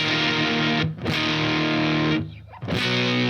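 Electric guitar played through a HipKitty Chameleon pedal with its distortion turned all the way down to an extreme setting, giving sustained, buzzy chords that drop out briefly twice, loud and close.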